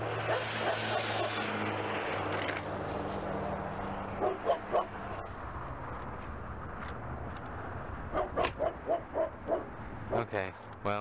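Dog barking in a series of loud, close barks in two bursts, first a few then a rapid run of about eight, with someone talking in between.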